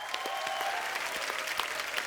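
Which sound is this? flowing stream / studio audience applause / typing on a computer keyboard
studio audience applause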